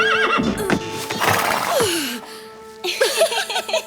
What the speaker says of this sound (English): He's a very restless horse.